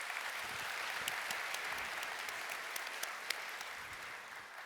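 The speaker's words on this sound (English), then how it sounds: "I'll take the claps." A conference audience at a Microsoft keynote on Copilot Studio claps steadily, a dense, even wash of applause that fills the room with no speech over it.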